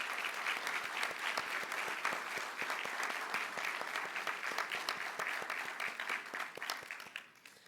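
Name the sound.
audience applauding candidates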